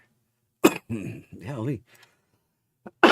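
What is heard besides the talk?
person coughing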